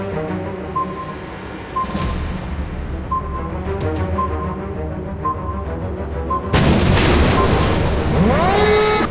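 Torpedo explosions in the naval combat video game Warship Blitz: a heavy burst at the end lands loud over an ongoing wash of game music and engine rumble, with a booming, crackling tail.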